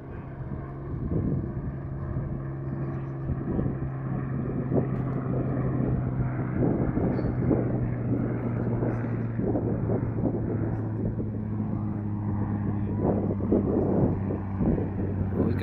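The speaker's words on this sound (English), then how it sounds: "He's doing a strafing run." Propeller aircraft droning steadily overhead on a strafing run, a continuous low engine hum with wind buffeting the microphone, moderately loud throughout with no talk.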